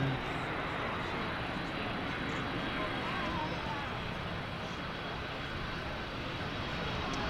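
A C-5M Super Galaxy landing with thrust reversers produces a broad, steady distant roar of jet engines, faint and continuous, with no distinct voices over it.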